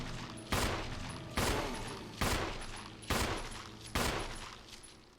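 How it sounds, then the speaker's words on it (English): Five loud, evenly spaced gunshots boom through Resident Evil HD Remaster, each a sharp blast with a long decaying tail, spaced under a second apart with no talking. "shoot forward, Jill."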